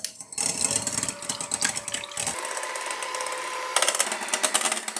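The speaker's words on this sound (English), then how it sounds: "Now we'll take our hand mixer and get these whipped to stiff peaks." A handheld electric mixer whipping egg whites with cream of tartar to stiff peaks, a close whirring motor hum with beaters clattering in the bowl, changing pitch as the speed shifts.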